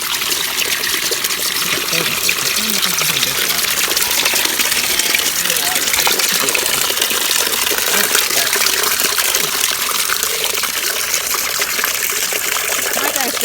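Water gushes steadily and loudly into a container, a continuous splashing rush that holds constant throughout.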